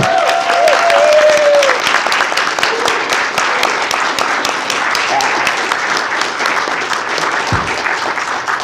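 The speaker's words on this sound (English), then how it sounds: "Give Wes a great round of applause." Loud, sustained audience applause at Indigenous Comic Con 2018: dense crowd clapping fills the whole stretch with a brief whistle-like tone near the start and a thud toward the end.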